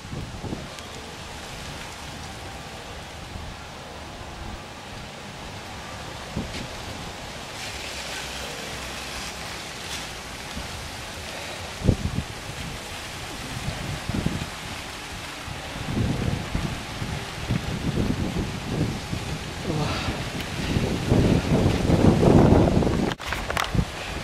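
Cold northerly wind blows outdoors, roaring and buffeting the microphone in uneven gusts that build toward the end, with rain-like hiss and crackle throughout.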